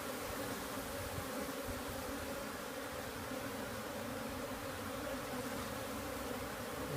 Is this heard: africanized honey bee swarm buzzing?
yes